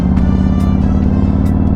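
A Harley-Davidson motorcycle engine fitted with an HPI throttle body and intake manifold pulls hard under throttle, giving a loud, steady, close-up low growl with no break.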